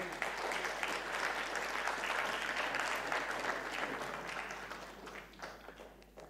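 An audience at a health expo gives a round of applause, dense sustained clapping that fills the room and gradually fades toward the end.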